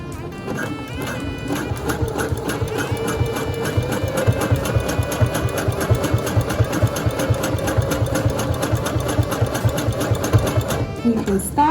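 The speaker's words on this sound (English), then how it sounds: "I'm gonna go ahead and zigzag stitch it again." A sewing machine runs a zigzag stitch across ruffle fabric in a loud, rapid, steady mechanical chatter that carries on almost unbroken for the whole stretch.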